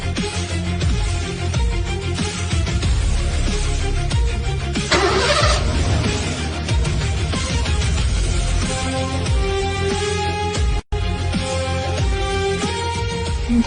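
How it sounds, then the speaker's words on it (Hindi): A car starts and runs with a steady, loud engine drone and revving for several seconds, with a brief burst of higher noise partway through and a sharp cut near the end, no talk over it. "कोमल, गाड़ी स्टार्ट करो।"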